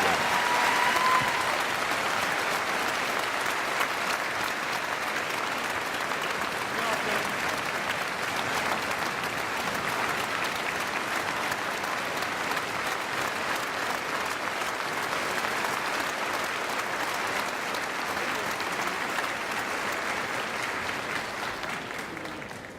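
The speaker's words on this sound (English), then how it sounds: "join me in a round of applause again to celebrate these two gentlemen" A college spring commencement audience gives a long, steady round of applause, dense massed clapping holding at an even level throughout before tapering slightly at the end.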